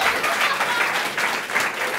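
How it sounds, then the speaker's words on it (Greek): Steady applause from a studio audience on a Greek comedy show, dense clapping that holds at an even level for about two seconds with no voices over it. "Παρακαλώ ένα χειροκρότημα"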